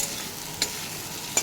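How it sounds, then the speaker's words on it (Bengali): Boiled potatoes and raw banana pieces fry in oil with turmeric and salt, crackling in a steady close sizzle broken by two quick stirring scrapes. "তো এগুলিকে আবার তেলের মধ্যে ভেজে নেব হলুদ আর"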